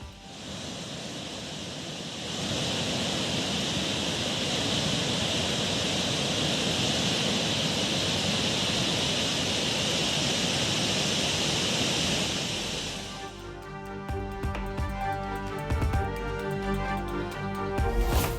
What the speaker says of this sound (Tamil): தெலங்கானா மாநிலம் நிர்மல் மாவட்டத்தில் உள்ள குந்தலா நீர்வீழ்ச்சியில் ஆர்ப்பரிக்கும் வெள்ளம்